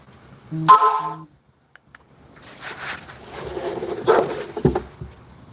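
A couple of quick dog barks up close, then rustling, shuffling and handling noise.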